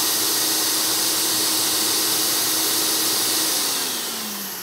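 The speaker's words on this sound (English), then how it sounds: "when I go ahead and click down and this begins to work, the vacuum will also begin to work." A shop vacuum connected to a Surf Prep sander runs with a loud, steady broadband whoosh close by, its pitch sinking slightly as it begins to wind down at the end.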